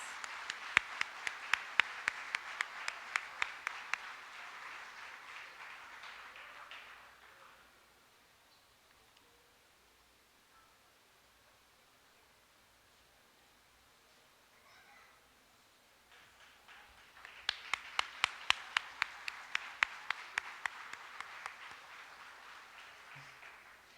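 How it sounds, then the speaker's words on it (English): Audience applause for the Junior Miss candidates at the 2019 Choctaw Nation Princess Pageant, heard as two bursts of moderately distant clapping with a quiet gap between them. "Let's give a round of applause to all of our Junior Miss candidates."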